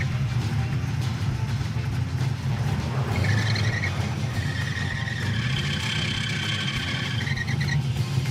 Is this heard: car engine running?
yes